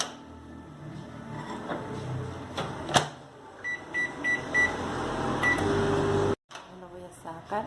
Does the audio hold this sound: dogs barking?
no